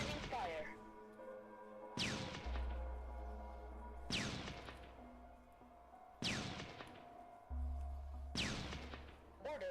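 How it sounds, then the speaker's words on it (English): Gunfire from units opening fire in the Shadow Empire strategy game: sharp, loud bursts repeating roughly every two seconds, each decaying with a ringing tail, alongside low rumbling booms. "Opening fire."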